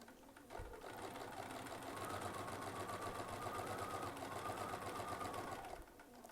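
Sewing machine stitching quilt fabric, a steady rapid mechanical chatter at close range running for about five seconds between brief pauses at start and end.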